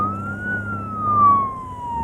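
An ambulance siren wails in a slow rising and falling tone in a comedy film street scene. The pitch sweeps smoothly and the siren swells louder as it passes, over low traffic rumble.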